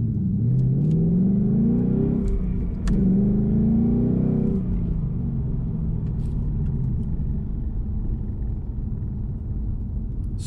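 A 2015+ Ford Mustang S550 in normal exhaust mode with the sound tube removed, revving twice in rising sweeps before settling into a throaty, rumbling idle, loud and close with no speech.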